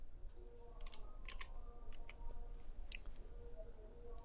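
Fingers tapping on a computer keyboard while entering a formula in Google Sheets, giving a quiet, irregular run of soft clicks over low background hum.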